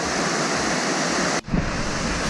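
Waterfall at El Retiro, Antioquia, giving a loud, steady broadband rush of falling water that briefly dips before resuming its constant roar, with no voices.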